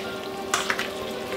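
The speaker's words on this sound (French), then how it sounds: "Pâte, sauce. Pince, on mélange grosso modo." Linguine tossed with hot arrabbiata sauce using tongs, giving a soft, wet sizzle with a couple of quick clicks and squelches over a low steady background hum.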